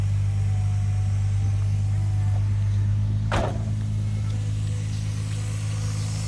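A Nissan Skyline R34 engine idles with a steady, low stock-sounding rumble throughout, interrupted by one brief sharp noise midway.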